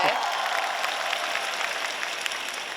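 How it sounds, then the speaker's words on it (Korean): A crowd applauds at an open talk event at the Busan International Film Festival, a dense wash of clapping that holds steady for a few seconds. "여러분 박수 한번 주세요."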